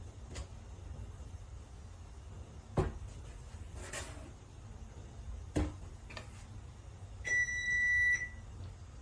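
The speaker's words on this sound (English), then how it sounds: "That sound means that my oven is ready." Faint kitchen clatter and a few knocks while baking cookies, then a short electronic beep near the end from an oven signalling it is preheated.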